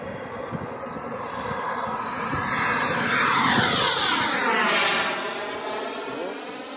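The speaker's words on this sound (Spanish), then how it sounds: "Creo que ya va a aterrizar el jet." A remote-control model jet flies at a miniature aircraft show before landing, its loud turbine whine sweeping past in a steady, rising and falling pass, with no talk.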